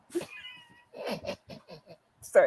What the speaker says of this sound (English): that was my cat, not you.